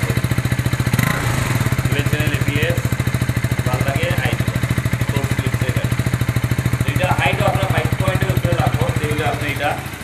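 A KTM motorcycle of around 200cc runs in a bike showroom, its engine thrumming close and loud in a steady, even pulse throughout, with voices talking faintly behind it.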